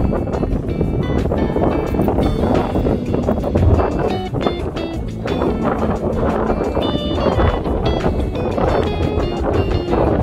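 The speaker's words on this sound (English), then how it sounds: "Oh, windy!" Strong wind blusters across the Dunkirk pier harbor in New York, buffeting the microphone with a steady, loud roar that runs continuously without a break.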